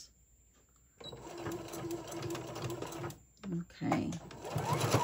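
Sewing machine stitching fabric layers for hot pads, a steady mechanical whir running for a couple of seconds, pausing briefly, then resuming in short bursts, close by and loud, with a speaking voice briefly over it.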